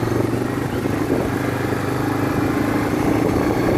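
A Farmall 560 tractor runs on a straight pipe with a steady, rough, loud engine drone and wind noise, with no revving changes.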